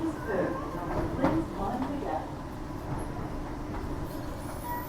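A train rumbles along with a steady rolling roar and faint clatter of wheels, growing slightly quieter as it slows arriving at a station platform on the Perth line between Kenwick and Whitfords.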